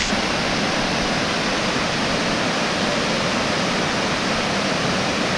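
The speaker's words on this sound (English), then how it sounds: "we made it here to the falls. It's a beautiful waterfall" Steady, loud roar of falling water, a constant full rushing noise with no pauses or voices.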